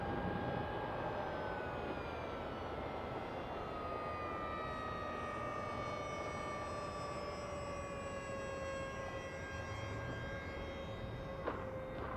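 An Esky Eagle 1100mm RC trainer airplane flies overhead with a high, whining electric motor drone. The pitch slowly falls as it passes and fades, and no one speaks.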